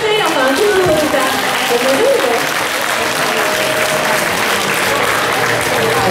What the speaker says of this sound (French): J'aimerais entendre un peu plus d'acclamations pour Regina Rebecca et sa troupe.